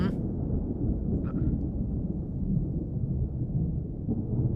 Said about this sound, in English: Oh, sounds like thunder.